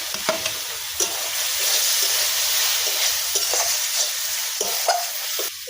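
Mustard paste and spices sautéing in a pan with a splash of water for a kachki fish chorchori: a steady broadband sizzle runs throughout, punctuated by several sharp scrapes and taps of a spatula stirring, with no talking.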